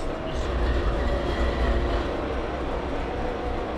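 CSX AC-44 diesel locomotives running in the Trainz simulator, a loud steady engine rumble with a deep low drone and rail noise throughout.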